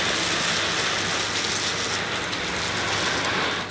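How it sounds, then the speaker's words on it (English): An AEG VX8 Silence Pet Pro cylinder vacuum cleaner pulls dirt off a carpet, a dense, even rushing hiss of airflow with crackling debris rattling up the pipe throughout, fairly loud and close with no voices. "You can hear all the dirt going up the pipe."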